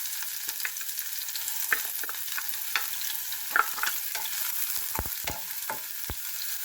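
Minced beef sautéing in hot oil for eggplant omelette, a steady close sizzle and crackle with soft stirring scrapes and a few low knocks of the spatula near the end, no talking.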